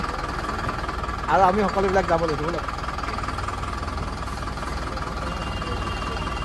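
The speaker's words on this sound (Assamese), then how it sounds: "গাড়ী ষ্টাৰ্ট হৈছে" A bus engine idles with a steady, low rumble that runs the whole time, while someone talks over it for a stretch in the middle.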